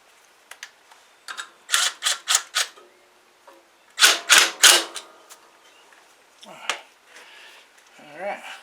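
A nut is tightened on a John Deere 262 small engine that has no power under load: several quick bursts of close metallic ratcheting clicks in two short runs, with a brief murmured voice near the end.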